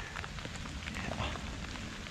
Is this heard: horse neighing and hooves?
no